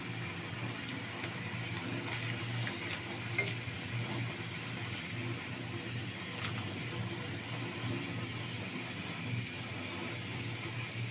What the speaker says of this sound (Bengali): এখন ফুটন্ত জলে পাস্তাগুলি দিয়ে দিব।